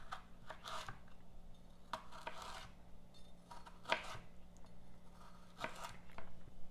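A knife slices carrots on a cutting board for pickles, with about five distinct chopping strokes at irregular intervals against a quiet background. The knocks are soft and near, and nobody talks.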